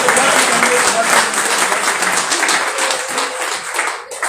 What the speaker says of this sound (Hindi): आप लोग जोरदार तालियां बजाते जाइए बजाते जाइए।